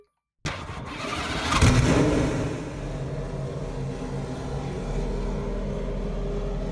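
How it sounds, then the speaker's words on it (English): A car engine in the video game Driving Empire cranks and fires up after a moment of silence, briefly rising in a rev before settling into a steady idle, heard from inside. "now let's see what it sounds like when you start it up inside"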